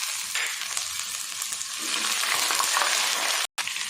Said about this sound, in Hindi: और अच्छे से प्याज फ्राई कर लेते हैं